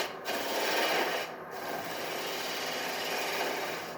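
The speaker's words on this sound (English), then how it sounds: "I'm just using the wing of the skew there, the gouge there like a skew, just to get a nice finish on there." A skew chisel finishes a spinning wooden top on a lathe with a continuous close rasping, scraping hiss that swells and eases slightly as the cut moves across the wood.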